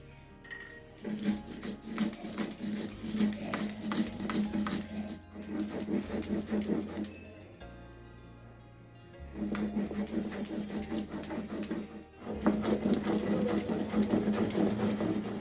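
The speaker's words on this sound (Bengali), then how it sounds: "যতটা সম্ভব কম জল ব্যবহার করে সর্ষেটা আমি বেটে নিয়েছি একদম মিহি করে" An electric mixer grinder whirs loudly as it grinds mustard seed paste with a little water, running in steady bursts with a short pause in the middle before it starts up again.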